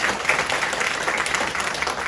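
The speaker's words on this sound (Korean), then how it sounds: "이럴 때 박수 한번 쳐주시면 고맙겠습니다." Audience applause at a legislative forum on protecting local small businesses and traditional markets in Gwangmyeong, a dense, steady wash of clapping from a crowded hall sustained for about two seconds.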